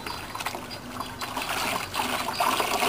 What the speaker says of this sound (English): Now he's rinsing out the first batch.